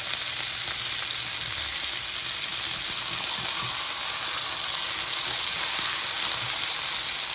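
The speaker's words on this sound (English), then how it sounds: "Now I'm going to go and flip my steak." Steak searing in a hot, greasy pan after a hard two-to-three-minute sear on the first side, flipped and sizzling: a steady, dense frying hiss that runs throughout, with no one talking.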